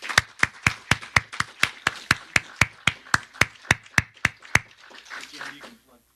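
Steady, evenly paced hand claps ring out loud and close, about sixteen in a row at a brisk rhythm, as an audience at a church fund session gives a round of applause, then trail off into quiet room noise.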